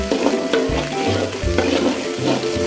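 Chicken skin frying in a pan, loud continuous sizzle and crackle with occasional stirring scrapes and clatters, close up and without speech.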